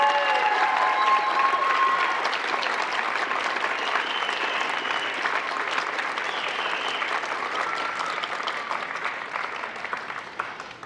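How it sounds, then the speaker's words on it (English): A crowd at a graduation ceremony applauds students receiving their high school equivalency, a loud, dense and steady wash of clapping that lasts the whole stretch without pause. "have a round of applause for those receiving their high school"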